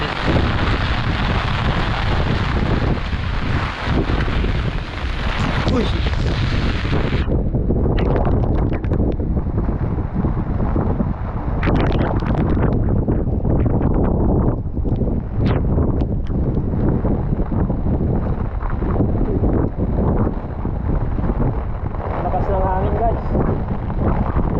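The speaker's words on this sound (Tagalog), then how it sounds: "sobrang lakas ng hangin" Strong typhoon wind buffets the microphone with loud, continuous rumbling and roaring gusts that never let up, during a Signal No. 3 storm with heavy rain near a river.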